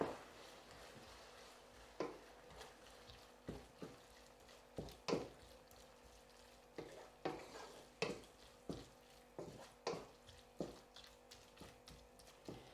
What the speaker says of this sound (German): Und umrühren.